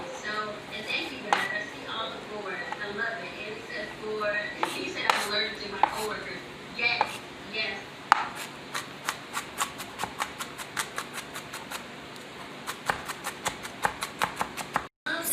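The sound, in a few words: chopping onion finely with a knife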